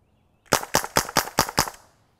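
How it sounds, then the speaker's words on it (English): A 357 Magnum revolver-style dart gun fires six rapid, evenly spaced sharp shots, close and loud, each with a short decay, then the sound stops. "Revolver mag dump time."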